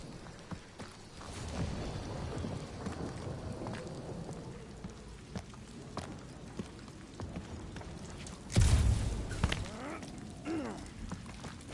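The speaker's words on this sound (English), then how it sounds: "It's just a little rain" Steady rain patters in the video game Guardians of the Galaxy, a soft continuous hiss with scattered drips, broken by a sudden loud thunder crack partway through that rumbles and fades.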